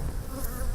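Honey bees drone steadily inside a man-made box hive, a dense, close, continuous buzz with no pauses and no voices.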